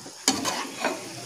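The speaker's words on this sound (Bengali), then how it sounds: "এবার আস্তে আস্তে এটাকে আমরা নাড়াবো" A spoon stirs roasted semolina with vegetables in a pan on low heat, giving close scraping strokes over a soft sizzle.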